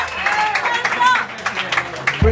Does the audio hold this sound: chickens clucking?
no